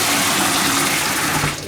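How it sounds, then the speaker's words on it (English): Fresh osmosis-filtered water fills the tank of a DeLonghi Autentica ETAM series coffee machine, a steady close gushing stream that runs throughout and tapers slightly at the end. "we fill it with fresh clean water after osmosis. To max mark"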